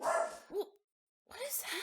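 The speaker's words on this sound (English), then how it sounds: "That was our dog." A dog gives a couple of short barks close by, mixed in with a person talking, then a pause before more voices and another bark.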